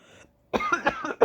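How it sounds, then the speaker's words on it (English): One person coughs in a short series of harsh bursts after a brief pause, close to the microphone, with a final throat-clearing rasp at the end. "I always start coughing."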